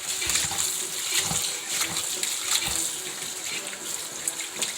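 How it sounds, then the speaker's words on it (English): Rice being washed in water, with a steady splashing gush of tap-like flow and repeated sloshing bursts as the grains are swirled, fairly faint and without talk. "Remember, always wash your rice."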